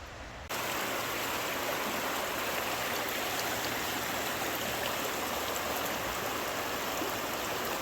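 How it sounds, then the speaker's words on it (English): A small river runs beside a campground, a steady close rush of flowing water that fills the whole stretch without a break, nobody talking. "One cool thing about this campground is it backs up to a little river."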